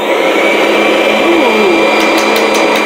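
A Kirby G10 Sentria upright vacuum cleaner runs at a steady, loud, close-up whine with a constant motor hum throughout, and a few faint ticks near the end.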